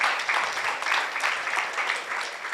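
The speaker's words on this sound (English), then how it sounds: "I think they deserve a bigger round of applause" Sustained applause from a scientific conference audience at a beach resort hotel, a dense, steady wash of many hands clapping at close range with no break.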